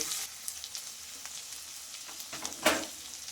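A fish head fries in hot spiced oil in a pan, giving a steady close sizzle with small crackles and one louder spitting burst near the end.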